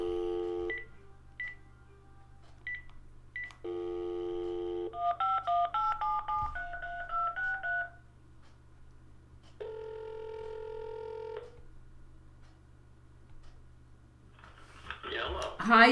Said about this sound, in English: All right, let me call him now.